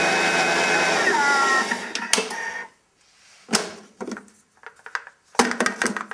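An electric blender grinds grey salt with Himalayan pink salt, a loud whirring roar that stops after about two seconds, followed by clattering and handling knocks of the jar, with no talking.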